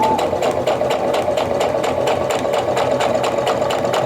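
A sewing machine runs slowly and steadily up to a pin on light quilting prints, its needle chattering in an even, close rhythm with no pauses.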